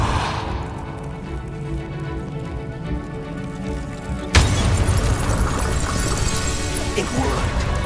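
A Bombarda blasting spell explodes in the Hogwarts Legacy video game: an ambient hum gives way to a sudden loud boom, and a sustained rumbling roar of debris and crashing follows.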